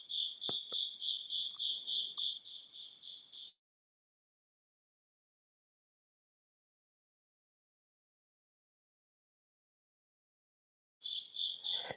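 Crickets chirp loudly at night in Indiana, a dense, steady pulsing trill close to the mic that stops abruptly for several seconds of silence, then resumes near the end.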